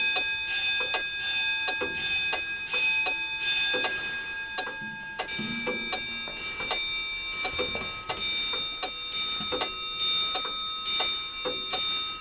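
An antique clock in a museum of timepieces chimes with a gong, repeated ringing strikes with long sustained tones and a steady tick beneath, fairly close and alone without talk.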